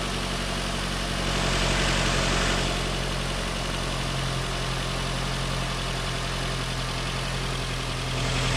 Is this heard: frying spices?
no